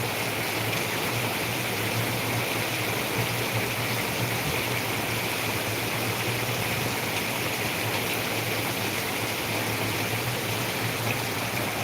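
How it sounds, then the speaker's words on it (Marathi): Torrential monsoon rain in Ahilyanagar keeps up a thick, even roar of falling water, close and constant from start to finish with no voices. "थांब तुला पाऊस दाखवतो बघ पाऊस आहे का पाऊस"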